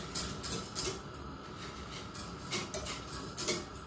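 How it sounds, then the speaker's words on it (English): A whisk clinks against a metal pot while a stock cube is stirred into broth, giving quiet, rapid metallic scraping and tapping up close, with no talk. "Get one of your stock cube out, put it in,"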